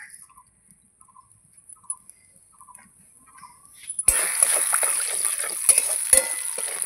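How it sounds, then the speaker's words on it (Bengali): Black cumin seeds drop into hot oil, which was added generously for a bhendi posto, and they burst into a loud, crackling sizzle midway after a quiet stretch, continuing steadily with small pops. "এই তেলের মধ্যে আমি কালো জিরে দিয়ে দেবো"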